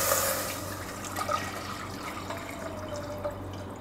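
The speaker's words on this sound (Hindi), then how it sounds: "अब उसमें हम डाल देंगे दूध।" Milk is poured into a pan on the stove for mango trifle custard, a soft, steady liquid pour with light splashing, close and alone.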